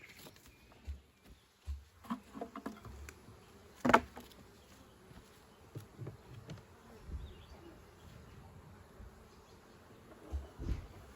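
Bees buzz around the microphone while a beekeeper moves swarms into a nucleus box, faint droning hum with occasional louder passes close by, plus scattered knocks and handling sounds.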